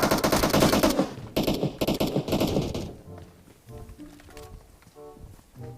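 Rapid automatic gunfire in PUBG Mobile, loud sustained bursts in the first half broken by a brief gap, then fading into quieter game ambience and softer distant sounds.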